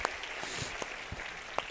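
A church congregation claps during a worship service, a few scattered sharp claps standing out from a soft, distant background murmur, faint and sparse.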